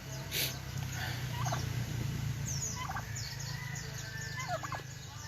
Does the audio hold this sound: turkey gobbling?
yes